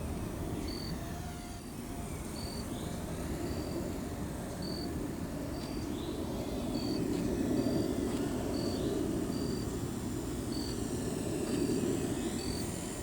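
A small Blade Revolution 90 FP RC helicopter flies around a neighborhood, giving a steady, continuous buzzing whine with faint rotor chop and no voices.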